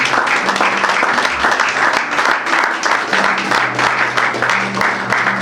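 A church congregation applauding in praise, sustained dense clapping throughout at a steady loud level, with faint voices mixed into the crowd.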